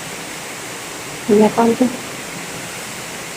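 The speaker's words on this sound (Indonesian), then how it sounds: "Hujannya malah tambah lebat." Heavy rain pours steadily during a flood at a house in Telaga Daim, Pelaihari, a constant broadband hiss throughout with a brief spoken exchange midway.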